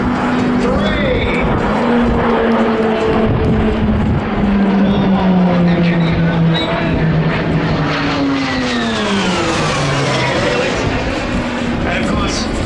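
PC-21 turboprop aircraft of the RAAF Roulettes fly overhead in formation at an airshow, giving a loud, continuous engine drone whose pitch sweeps down and shifts as the planes pass, with a commentator talking over it.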